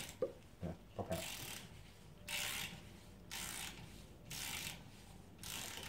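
A ratchet clicks in several bursts while a steering rack is stripped down. First come a few separate clicks, then four or five longer runs of rapid clicking with pauses between them, close up and fairly quiet, with no talking.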